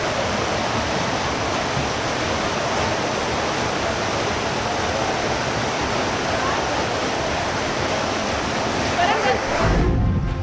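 Rushing floodwater sweeps a Wagon R car down a flooded street in Kathua, Jammu and Kashmir, during heavy rain: a dense, unbroken torrent roar holding steady and loud, with a brief louder surge near the end.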